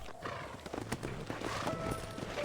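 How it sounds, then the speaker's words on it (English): Horse hooves clip-clop in Red Dead Redemption, a steady trot heard under game music and ambience, with a faint whinny among the hoofbeats. "Bueno, vuelve a montar a tu caballo."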